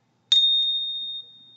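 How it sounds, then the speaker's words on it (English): A small bell from a witchcraft-themed mail-order haul gives one bright strike, then a pure high tone rings on and slowly fades. It is close and clear, with no other sound. "Ring the bell."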